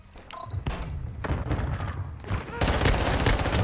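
Pistol gunfire in the video game Modern Warfare 2: several sharp shots crack out in quick bursts, followed by a louder, denser stretch of overlapping firing and impacts near the end.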